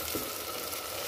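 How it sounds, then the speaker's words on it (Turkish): Okra frying in a pan at home while being stirred, a steady close sizzle running throughout with faint scraping of the spoon. "Annem bamya çıkartmış. Bamya yapıyor arkadaşlar. Ben de karıştırıyorum."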